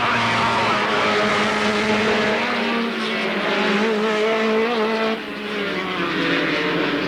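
Race cars competing at Alwalton Raceway in 1983, a loud engine howl with rising and falling pitch as cars pass, continuous and close with tyre squeal mixed in.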